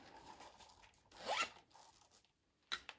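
A small plastic zip-top bag is zipped shut in one brief, crisp rasping pass, followed by a faint click, close up and quiet.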